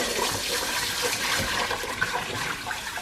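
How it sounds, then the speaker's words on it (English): Running water splashes steadily over rice being washed in a kitchen to rinse out the milky starch, a continuous close-up rush with no talking. "Okay, so you want to thoroughly wash the rice"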